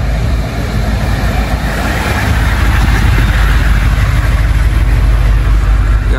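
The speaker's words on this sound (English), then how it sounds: "Got the Hummer rolling, military." A military Hummer rolls past at a car show, its engine a steady, loud rumble with broad road and crowd noise filling the whole stretch without a break.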